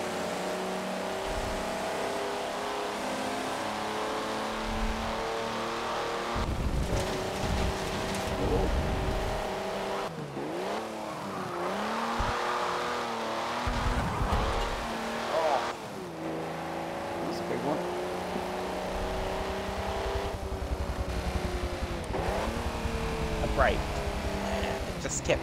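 Race car engine in Forza Motorsport 7, revving hard to high rpm with repeated gear changes that drop and climb the pitch, steady and prominent while people talk over it.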